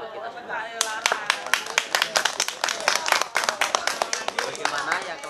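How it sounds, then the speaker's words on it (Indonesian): An audience at an Indonesian school flag ceremony for 17 August claps together in a dense, lively burst of many hands, steady and fairly close, with a voice speaking briefly underneath. "Tepuk tangan buat kita semua."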